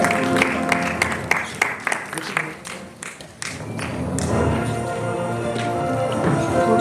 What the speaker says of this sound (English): Take a huge round of applause for sir.